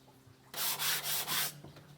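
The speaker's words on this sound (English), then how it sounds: "After a few minutes of sanding, the surface is nice and smooth" Sandpaper rubbed over the metal base of an old Bohrer woodworking hand plane in four rhythmic, loud, rasping strokes, close up after a brief quiet start.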